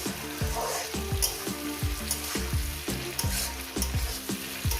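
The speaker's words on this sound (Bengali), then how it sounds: "লঙ্কাটাকে দিয়ে আরও এক মিনিট ভেজে নেবো" Green chillies frying with vegetables, yard-long beans and potato, in a pan for a Bengali posto dish: a steady, close sizzle and crackle of oil that continues without pause, with no talking.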